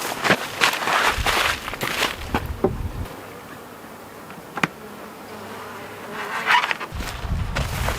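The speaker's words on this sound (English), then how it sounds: "There's actually bees." Honeybees buzzing around a hive during an inspection, a steady close drone with louder swells at the start and end and a few sharp knocks.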